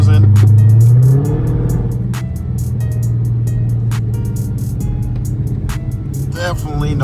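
A Dodge Charger cruises on a road test drive, its engine and road noise forming a steady low drone inside the cabin, with a brief rising rev at the start and a few light thumps.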